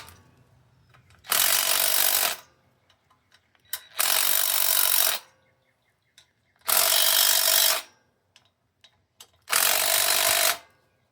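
Power tool unbolting fasteners on a John Deere engine during a cam job, four loud bursts of roughly a second each separated by quiet pauses with faint clicks and handling noises.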